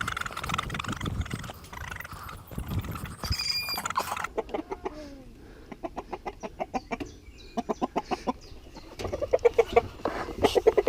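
A chicken clucks and squawks in agitation while being caught, with quick rhythmic scuffling and tapping sounds around it, close by and moderately loud.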